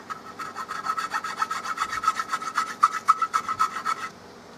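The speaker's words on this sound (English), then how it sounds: "A chainsaw file should smooth that right out." A chainsaw file rasps back and forth across a wooden Remington 700 rifle stock in quick, regular strokes, about a dozen and a half passes, close and fairly quiet, then stops.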